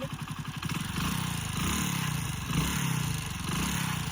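A repaired Hero Splendour motorcycle engine idles close by in a garage at night, a steady, even putter with light mechanical clatter and small swells in revs, with no talking over it.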